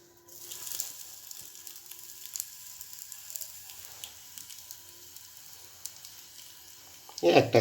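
Fenugreek appe batter sizzles steadily in a hot appe pan, a close continuous frying crackle running throughout, ending with a brief louder clatter.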